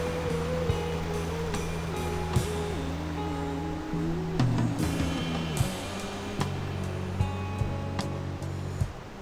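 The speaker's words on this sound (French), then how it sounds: "on est au-dessus de la cascade, la plus grande cascade" Waterfall at Saint-Pons park in Gémenos, heard from above the largest cascade as a steady, broad rush of falling water with a low tonal hum running underneath and a few faint clicks, without speech.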